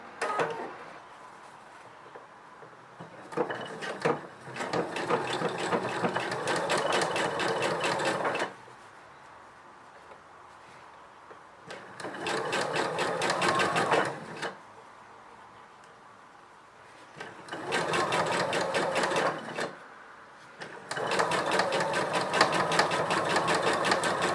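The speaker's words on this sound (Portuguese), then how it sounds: "Isto vai-se cozer com ponta direito. Vamos pôr aqui na máquina." An industrial sewing machine stitches cut-and-sew foam bra cups with lace in bursts of rapid mechanical whirring. Each run lasts a few seconds, and there are quiet pauses between them.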